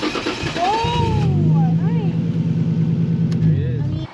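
A Nissan R34 GTR cranks over and catches, settling into a steady, loud idle with a deep throbbing rumble for several seconds, while people talk nearby.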